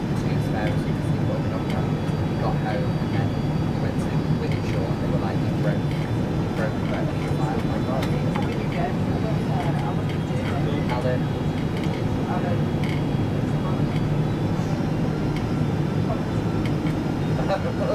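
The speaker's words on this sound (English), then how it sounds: "following our descent along the coastline we made a smooth landing at Kennedy Airport, and then had a long taxi to our stand" A Virgin Atlantic airliner taxis at New York's JFK airport after landing, heard from inside the cabin as a steady, broadband engine and rolling drone that stays constant throughout with faint cabin sounds.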